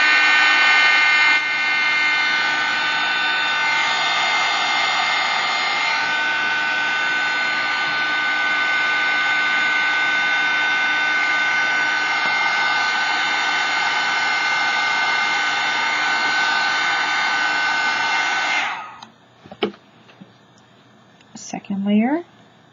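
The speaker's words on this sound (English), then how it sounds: "You throw a little bit of heat on there to dry it up so you can do the next layer." A heat tool blows a loud, steady whirring stream of hot air to dry a paint layer on a scratch art index card. It runs for about nineteen seconds, then cuts off, leaving a few faint handling sounds.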